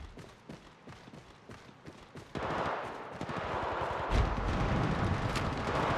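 Video game gunfire in a battle royale match: rapid bursts of automatic shots, sparse at first and then a dense, loud barrage with heavy booming impacts, sounding alone with no speech.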